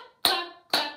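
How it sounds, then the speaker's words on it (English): Two sharp hand claps about half a second apart, each ringing briefly, during a baby storytime session. "Clap your hands with me"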